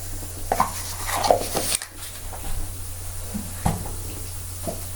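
Spices such as cumin being stirred in a cooking pot for spicy pasta, heard as soft scraping and light knocks of a spoon against the pot. A few dull taps stand over a steady low background hum, all close and quiet.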